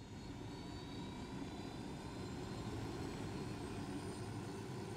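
Helicopter engine in Ghost Recon Wildlands, a steady, loud drone with a deep rotor rumble held evenly throughout, with no voices over it.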